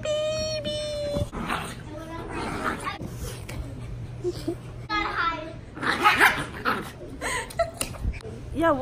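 A dog barks and yips intermittently, mid-distance and moderately loud, beneath ongoing conversation and a voice in a busy room.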